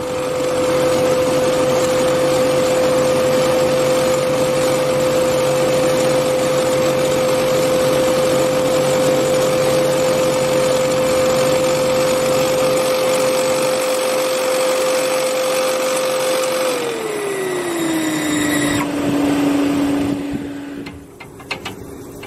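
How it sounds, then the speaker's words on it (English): A 12-volt blower fitted beneath a steam-powered Land Rover hums steadily with a loud constant whine, then winds down in pitch near the end as it slows. "That's a 12-volt blower underneath, which comes on"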